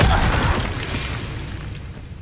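The Confringo fire spell explodes in Hogwarts Legacy combat on PS5, a loud booming burst up front that rolls off into a fading rumble and crackle.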